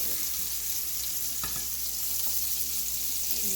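Wild morel mushrooms fry in a hot skillet, giving a steady, close sizzle that holds evenly throughout, with a few faint clicks of the pan or utensil partway through.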